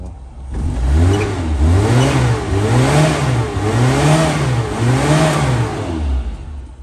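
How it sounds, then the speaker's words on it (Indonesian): A Suzuki Carry 1000 engine revs repeatedly in rhythmic throttle blips, rising and falling about five times, loud and close with no talking. "nih mobil udah hidup dan ini getarannya halus banget nih tak gas gas ya"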